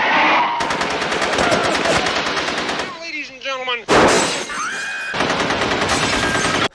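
Gunfire from Nazi demon-like creatures bursting in and shooting everyone in a horror film scene: loud, rapid machine-gun bursts in long sustained volleys, broken by a short gap with screams, then more firing.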